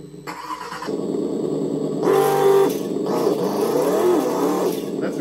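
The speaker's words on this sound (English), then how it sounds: "That's a big block right there." A big block engine sound played through an RC car's sound module, a loud steady engine drone with a swell in revs partway through, fluttering and rising before settling back, alone with no talk.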